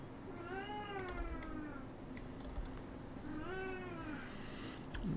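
A pet cat meows twice indoors, each a drawn-out wavering call separated by a pause, fairly faint against a quiet room with light background noise.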